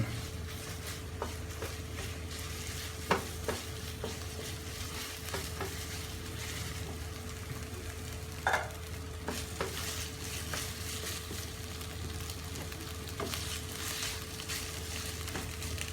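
Chili paste being stir-fried in oil for a pork belly prik khing dish, a constant close sizzle with repeated scraping and tapping of a spatula against the pan, no one speaking.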